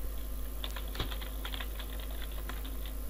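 Typing on a computer keyboard: a steady run of light, quick key clicks at close range over a constant low hum, with no voices.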